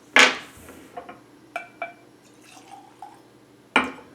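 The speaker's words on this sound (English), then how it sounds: "So let's pour a drink here and get into it." Larceny Kentucky Straight Bourbon is poured into a glass: a sharp clink of bottle on glass, then light trickles and drips, and another glassy knock at the end, all close and quiet, with no speech.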